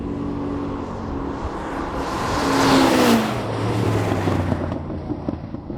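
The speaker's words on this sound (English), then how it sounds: "I did launch that, and it had a huge amount of wheel spin" Ferrari SF90 XX launching hard with heavy wheel spin: a close, loud engine roar that swells to a peak around the middle and then eases into a lower drone as the car pulls away.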